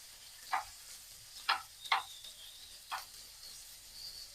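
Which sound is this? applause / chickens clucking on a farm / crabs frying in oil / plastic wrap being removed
crabs frying in oil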